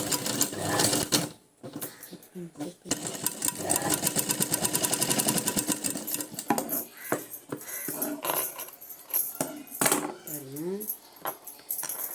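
Sewing machine stitching cut and joined sleeve fabric, a fast rhythmic whir in sustained runs with pauses, mixed with clicks and handling noise and brief voices.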